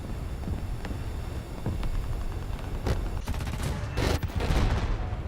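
Aircraft guns strafing ground targets such as pillboxes in War Thunder, a rapid crackle of gunfire building into dense bursts with sharp reports over a constant engine drone.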